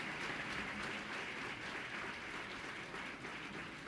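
An audience claps at the Utsav 2014 festival gathering at Dev Sanskriti Vishwavidyalaya in Haridwar. The applause is steady, dense and rather distant, holding evenly for about four seconds with no voices over it.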